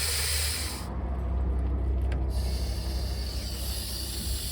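A garden hose sprays water over tortoises in 96°F heat with a loud, steady hiss that runs throughout, dipping briefly in brightness partway through.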